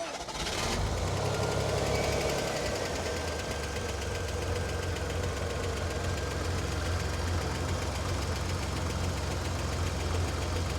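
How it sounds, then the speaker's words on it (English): A 1963 Chevrolet Corvair Monza's air-cooled flat-six engine turns over and settles into a steady, rumbling idle that runs on loudly and continuously, with no voices. "Can you start up the engine? Yeah. Let me see what it sounds like."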